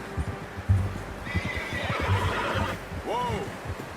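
Horse in the Red Dead Redemption 2 video game whinnies with a rising, wavering neigh near the end, after hoof clip-clops and background rustle, with a voice heard briefly.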